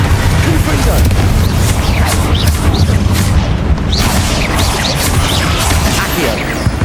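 Fiery blast spells explode in the video game Hogwarts Legacy, a loud, dense barrage of booms and crashes with crackling bursts continuing without pause over several seconds.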